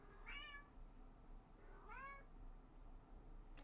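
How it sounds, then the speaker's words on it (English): A pet cat meows twice at a quiet distance, each call a short rising-falling whine about a second and a half apart, over faint room hiss with a tiny click at the end. "Charlie, my kitty, is meowing like crazy."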